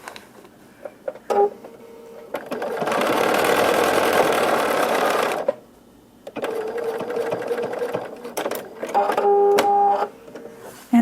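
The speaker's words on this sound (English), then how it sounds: "sew on the lines between 1 and 2 and 3." A sewing machine stitches seams on courthouse steps and log cabin quilt blocks, in two close, steady runs of rapid whirring stitching separated by a short pause, with quiet handling noises and brief clicks between.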